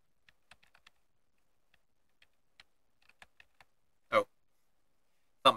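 Scattered keystrokes click faintly on a computer keyboard in sparse irregular bursts, followed by two louder, fuller thumps near the end.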